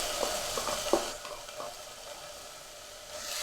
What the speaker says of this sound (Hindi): हम ये सब्ज़ी डाल देंगे। 1 मिनट के लिए इसको भी फ्राई करेंगे